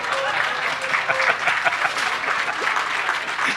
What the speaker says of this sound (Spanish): Aplausos, por favor, para Arturo.